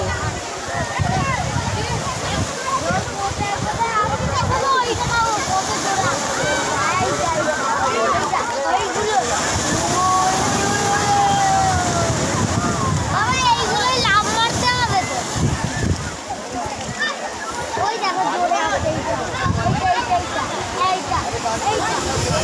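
Waves washing water up onto a shore, a continuous loud rushing and sloshing surge with excited voices talking over it throughout.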